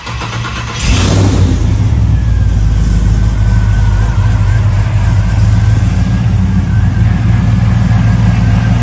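A 640-horsepower 1970 Chevelle's engine cranks and fires about a second in, then settles into a loud, steady, rumbling idle close by.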